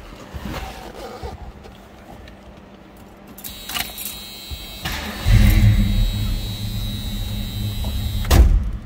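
A 1973 Mercury Cougar XR7 two-door hardtop is heard from close by: keys jangle and the ignition is turned before the engine cranks, fires and settles into a steady idle with a slight rumble, followed by a brief rev near the end.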